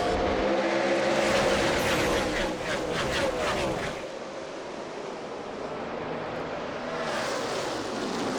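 NASCAR stock cars at Texas in 2010 accelerate hard at a restart after a caution, a loud, continuous engine roar with rising, overlapping whines that swell and then settle into a steady rumble.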